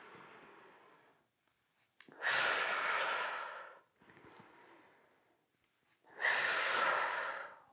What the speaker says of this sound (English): With your next inhale, bend your knees into the squat. Exhale, stand up.